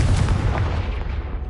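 Hogwarts Legacy's Confringo blasting curse detonates with a loud, close, crackling explosion, broad and punchy, then a brief decaying rumble, with no talk over it.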